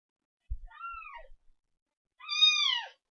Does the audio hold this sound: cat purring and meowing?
yes